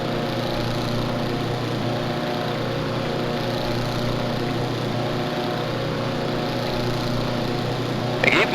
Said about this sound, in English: reduce power to about 24 to 2500 RPM